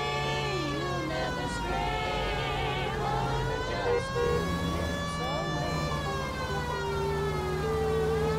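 A police car siren from the video game L.A. Noire wails steadily and loudly, its rising and falling tone running unbroken throughout.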